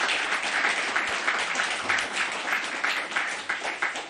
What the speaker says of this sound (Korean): 충성스럽게 또 신실하게 잘 섬겨주실 것을 우리가 박수로 격려해 주시면 감사하겠습니다.